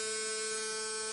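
An electric shaver runs with a steady, even buzzing hum at moderate loudness, continuous and close, with no voices.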